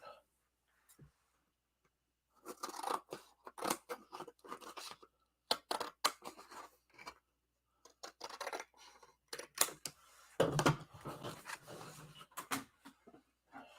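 Scissors snip and trim cardstock for a handmade card kit, a series of crisp cuts and paper rustles in irregular bursts, close and fairly quiet.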